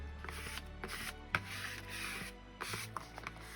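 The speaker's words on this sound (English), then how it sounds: "I'm just going to go ahead and just burnish it down." Soft rubbing and scraping of a burnishing tool pressing gift-bag paper over glue onto a handmade journal cover, close and quiet, with a few light taps among the strokes.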